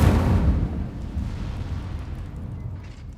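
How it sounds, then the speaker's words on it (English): A burst of fire from the Incendio spell in Hogwarts Legacy: a heavy whooshing blast of flame that hits hard at the start, then rumbles and fades over a few seconds. "Heavy damage unleashes destructive flames at a short range."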